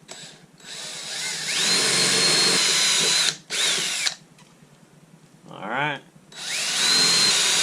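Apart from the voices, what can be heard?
power drill drilling holes in jon boat transom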